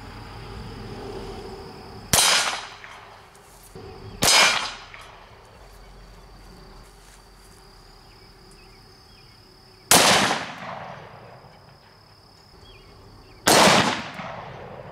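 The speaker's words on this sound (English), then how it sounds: "Now we're going to shoot it with the 22 first, and then the 221 Fireball." Four sharp rifle shots from a .22 and a .221 Remington Fireball striking a steel plate, each a loud crack with a short decaying ring, spaced unevenly over about fifteen seconds with a quiet hum between.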